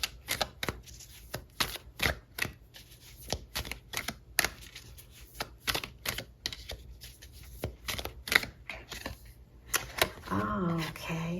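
Tarot cards being shuffled by hand during a love reading, producing a steady run of crisp riffling snaps and flutters close up, with a voice speaking near the end.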